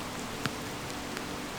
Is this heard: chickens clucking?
no